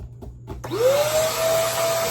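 A SOARFLY vacuum cleaner switches on after a few soft clicks, its motor spinning up into a steady, loud whine with a rising tone that settles into a sustained hum.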